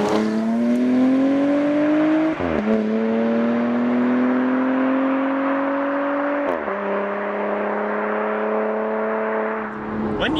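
A Porsche Panamera Sport Turismo eHybrid accelerates hard out of a corner, engine rising in pitch through gears with brief drops at each shift, loud and close, steady roar throughout.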